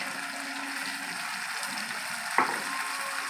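Ginger, chilli, onion and garlic paste with a splash of water fries in a pan, giving a steady, even sizzle throughout, with one brief stir or clink partway through and no talking.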